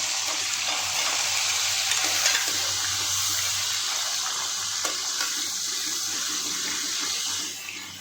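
Chopped capsicum hits a hot pan for masoor pulao and fries with a dense, continuous hiss and sizzle that holds steady before easing off near the end.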